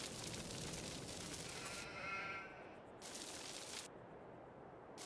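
Sheep bleat in Farming Simulator 22, a drawn-out wavering cry in the middle layered over continuous noisy game ambience that cuts in and out.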